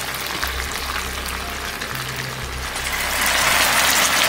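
Pork belly sizzles steadily in a wok for Sichuan twice-cooked pork as Chinese cooking liquor goes in, a close continuous frying hiss that grows louder and brighter toward the end, with a low background hum.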